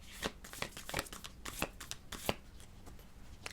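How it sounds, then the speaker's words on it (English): A tarot deck is shuffled by hand in quick, uneven bursts of riffling and snapping cards, close up and fairly quiet, with no voice over it. "I love this deck. It's just kind of hard to shuffle."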